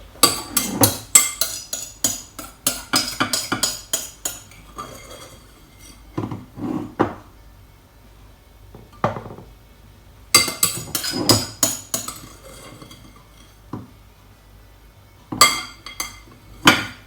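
A metal spoon scrapes and clinks rapidly against a bowl while the last bits of fish pie mixture are cleared out, in repeated bursts of close, sharp tapping separated by pauses.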